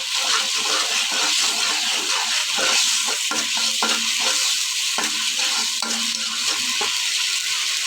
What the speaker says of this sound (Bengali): পরিমাণ মতো লবণ দিয়ে দিলাম ভালো করে মশলাটা কষাই দিতে হবে